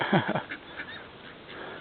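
Ducks honk and quack by a pond, a couple of close nasal calls near the start and then fainter calls mixed into outdoor background noise.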